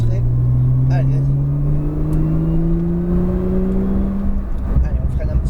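A Porsche 911 Turbo S accelerating hard around the La Ferté-Gaucher race circuit, its loud engine note climbing steadily in pitch close to the listener over a constant rushing roar.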